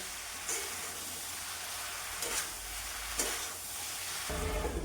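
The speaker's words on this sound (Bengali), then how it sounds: "আমি শাক দিয়ে দিয়েছিলাম ওই শাক থেকে জল বেরিয়েছে ওইটাই রান্না হয়ে যাবে" Shrimp and leafy greens cook in a pan in their own released water, with no water added. A steady close sizzle runs throughout, with brief bursts of stirring, and the sizzle swells louder near the end.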